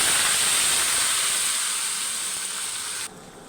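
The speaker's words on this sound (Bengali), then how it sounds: "মাংসটা দিয়ে দিলাম, নাড়াচাড়া দিলাম।" Meat dropped into a hot pan of reddened fried onions, giving a loud, steady broadband sizzle that fills the whole clip and eases off slightly near the end. No voices.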